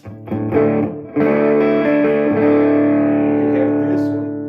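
A distorted electric guitar rings out through a Tone Master Deluxe Reverb amplifier, both channels through one speaker: a few choppy strums, then a thick sustained chord that slowly fades, loud and close.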